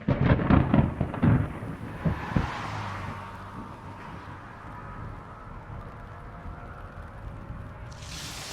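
A thunderstorm opens with a heavy rolling crack of thunder that rumbles loudly for a couple of seconds. It then fades into a low, steady background rumble.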